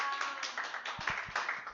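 Scattered applause at a church youth service for high school students, a few brief light claps standing out under steady crowd murmur and room noise in a large hall.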